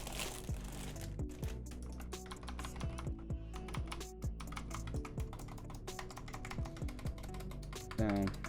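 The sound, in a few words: typing on Razer Huntsman Mini clicky optical switch keyboard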